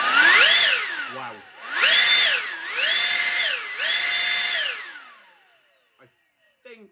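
A 6S electric ducted fan jet mounted on a WLtoys 144001 RC car spools up in several loud, whining bursts, pitch rising and falling with each throttle blip, then winding down to near silence with a few faint knocks at the end.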